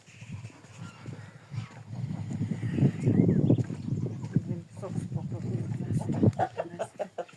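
Hens cluck and murmur in a farmyard during evening egg collection, a steady jumble of soft calls that grows busier midway, with no talk over them.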